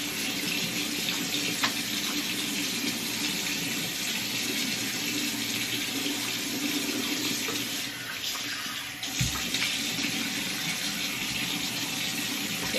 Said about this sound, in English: And then I just start rinsing my face off, and I continue to scrub it as I'm taking the product off